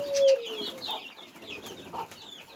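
Desi hens with their chicks make soft intermittent clucks and thin peeping calls, one brief louder note at the start, fairly faint and close, no talking.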